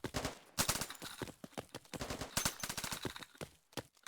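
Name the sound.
gunfire during shooting practice, likely in a video game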